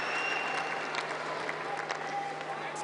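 Tennis crowd at an IPTL match in New Delhi applauding, with some spectators using clapping pads, a steady wash of clapping from a large audience lasting a few seconds at moderate volume.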